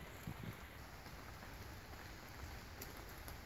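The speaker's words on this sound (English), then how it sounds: "I'm biking in the rain." Steady rain falls in a regional park in Washington while someone bikes through it, a constant soft hiss of drops with no voices.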